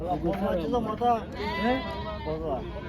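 Rams bleat repeatedly at a busy livestock market, several wavering calls close by over a background of crowd noise.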